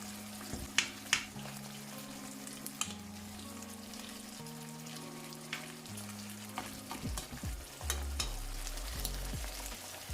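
Onions sizzle and fry around honey garlic salmon in a pan, a steady low crackle under soft background music with a few sharp clinks and stirring knocks.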